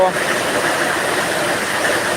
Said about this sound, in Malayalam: നല്ല മഴ പെയ്യുന്നു നല്ല മഴ